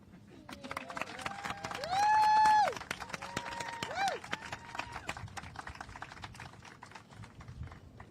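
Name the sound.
crowd applause at ribbon-cutting ceremony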